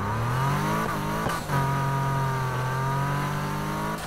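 A car engine in the racing game Need for Speed Heat holds a strong steady drone, briefly dipping and shifting gear early on before settling into a sustained rev.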